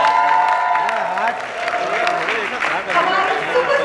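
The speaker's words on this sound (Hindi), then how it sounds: "जो जोड़ी आई है उसके लिए जोरदार तालियां हो जाए हीना और रॉकी के लिए।" Loud applause from an audience at a TV show launch event in India, with cheering and an announcer's amplified voice continuing over the clapping throughout.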